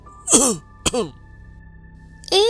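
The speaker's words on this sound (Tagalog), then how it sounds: "Oh, bakit ka naman umuubo?" A person coughing, about three harsh coughs spaced across a couple of seconds, close and fairly loud, with a steady faint hum between them.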